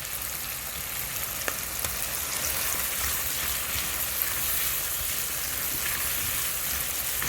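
Mashed garlic stir-fries in a hot pan with a loud, continuous hiss-like sizzle, close and steady throughout, with faint scraping and crackle on top and no talk.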